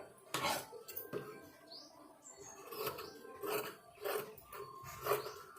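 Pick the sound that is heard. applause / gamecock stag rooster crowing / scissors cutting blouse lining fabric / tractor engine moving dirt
scissors cutting blouse lining fabric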